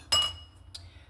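A spoon strikes a bowl while salad ingredients are mixed, giving one bright clink followed by a fainter second tap, close and otherwise quiet.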